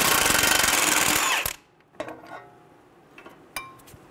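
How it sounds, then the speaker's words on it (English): A 24 mm socket on a power tool spins off the axle nut of a 2011-2014 Hyundai Sonata front hub: a loud close rattling impact burst, then silence broken by a few sharp metallic clinks of tools and parts. "we're going to use a 24 millimeter socket to remove the nut"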